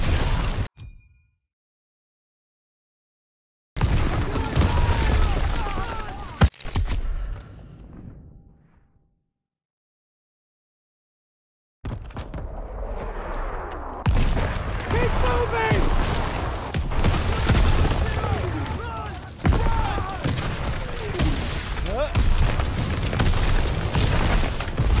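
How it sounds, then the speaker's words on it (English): Artillery fire and explosions in the World War II video game Call of Duty WW2, with loud booming blasts and bursts of gunfire, a pause of near silence, then sustained heavy combat noise with dense repeated impacts. "Artillery!"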